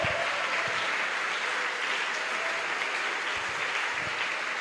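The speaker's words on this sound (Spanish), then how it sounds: "dele fuerte ese aplauso al Señor" Congregation applauding during a church worship service, a dense, steady wash of many hands clapping at once that holds evenly throughout without voices on top.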